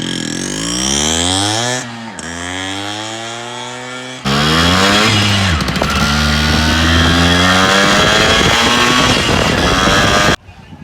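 Yamaha RX 100 two-stroke motorcycle with a five-speed gearbox revving hard and climbing through the gears, pitch rising then dropping at each shift, loud and close with no talk.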